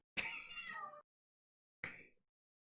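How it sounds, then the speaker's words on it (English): A house cat gives a long, loud meow up close, then after a pause a second, shorter meow, with quiet stillness around both calls. "My cat. This cat."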